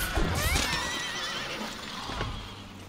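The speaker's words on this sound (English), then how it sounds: "Why do you sound like a horse, huh?" A horse-like neigh from a Monster Hunter video game creature, with wavering, whinnying pitch rising and falling over a dense, noisy background, with thumping sounds scattered underneath.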